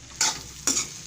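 Aloo gobhi, a potato and cauliflower curry, is stirred in a hot pan: two quick scraping sweeps with a sizzling hiss, close and fairly loud.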